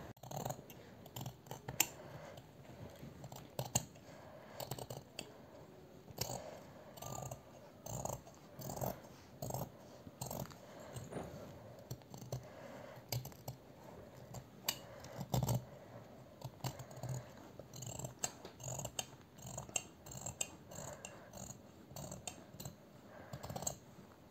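Scissors cutting through an old men's shirt, a run of repeated crisp snips at an uneven rhythm, close and fairly loud, with no talk over it.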